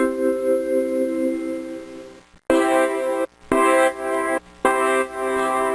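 MIDI synthesizer tones auditioned from ROM banks in Midi Quest librarian software: a long sustained harmonic tone, then a brief gap and three clipped bursts of a bright, rich synth note, each separated by short silences, with no talking.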